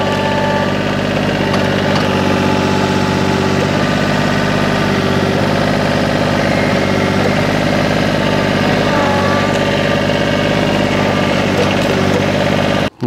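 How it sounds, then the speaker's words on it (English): A TYM tractor's engine runs loud and steady for the whole stretch, revving up while the bucket tilts, with a constant low rumble and strong vibration that cuts off abruptly at the end. "Okay, rev this up a bit."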